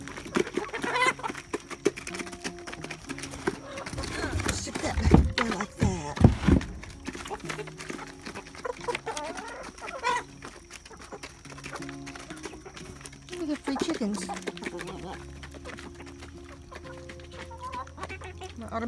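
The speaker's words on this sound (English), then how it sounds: "And the chickens are out." Chickens freshly let out of their coop cluck and chatter continuously at close range, with scrabbling and rustling movement and a person talking over the flock at times.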